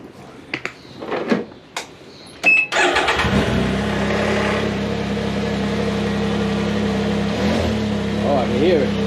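A Can-Am Ryker fitted with a cold air intake cranks and fires at about 2.7 seconds after a few clicks and thumps, then settles into a steady, fairly quiet idle that hums on to the end.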